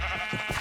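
A cow in the Minecraft video game lets out a short bleating moo, two quick lowing pulses heard close and alone in under a second.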